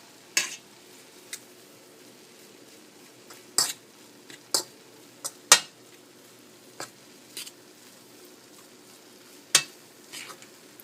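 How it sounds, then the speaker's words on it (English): Diced egg is stirred into rice frying in a pan: sparse, sharp scrapes and taps of the utensil over a faint, quiet sizzle, with no talking. "And then I will slowly add the diced up egg. And I began to stir it into the mix."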